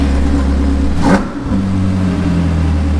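A car engine runs steadily close by, swelling into a short rev about a second in before settling back to a continuous low drone.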